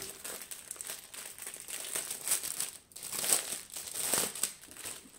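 Plastic packaging from a diamond painting kit is crinkled and pulled open close by, in bursts of crackling rustle with a brief pause near the middle.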